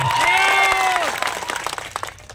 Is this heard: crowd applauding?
yes